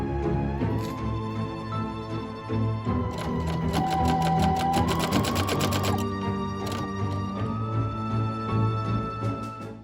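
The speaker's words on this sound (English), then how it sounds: "Clip or pin it in place and then run it through the machine." A sewing machine stitches tape onto a petticoat in a steady, close, continuous mechanical whir with rapid rhythmic clatter, briefly speeding up midway, with no talking.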